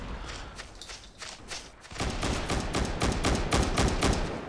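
Machine gun fire in a video game: sparse shots at first, then a dense, rapid stream of loud bursts rattling close by.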